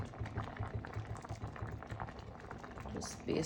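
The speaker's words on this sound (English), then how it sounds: "Once it boils a little, then I'm going to taste it to see if it needs any more salt." Curried coconut fish sauce boiling in a pan, giving a steady, close bubbling and popping that carries on throughout.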